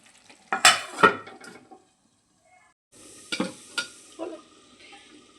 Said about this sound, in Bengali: দেখো মাংসটাকে এইভাবে ঢাকা দিয়ে দিয়ে কষাতে হবে